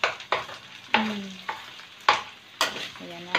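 Garlic frying in a very hot pan for sautéed sayote with pork and glass noodles: steady sizzling broken by sharp, repeated spatula strikes and scrapes at irregular intervals, close and fairly loud.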